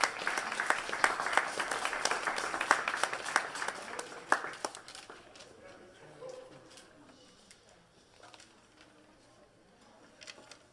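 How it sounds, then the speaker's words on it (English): An evening event audience claps for a master of ceremonies in a top hat, a lively burst of applause for about five seconds that fades into scattered claps and a quiet room with faint voices. "let's give him a round of applause"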